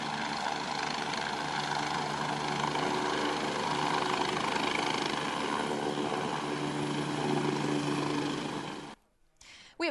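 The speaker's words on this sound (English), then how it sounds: "You just saw a Life Flight helicopter landing in the Roosevelt High School parking lot only moments ago." A Life Flight helicopter drones loudly and continuously while landing in a high school parking lot, its engine and rotor wash steady before cutting off abruptly near the end.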